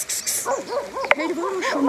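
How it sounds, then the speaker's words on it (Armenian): Dog yips and whimpering barks close by, a run of short rising-falling calls repeating through two seconds over background chatter, with people talking around it. "շուն է եկել"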